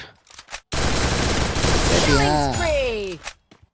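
A sustained, dense burst of rapid automatic gunfire in the Free Fire video game, loud and close, lasting a couple of seconds, with a descending whine layered over the end.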